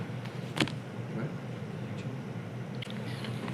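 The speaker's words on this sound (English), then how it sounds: "It's traffic." Steady road traffic rumbles as a constant low drone, with a few brief sharper noises rising above it and no talk over the top.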